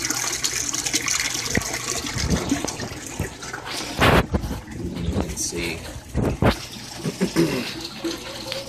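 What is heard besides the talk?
water flowing out of the filter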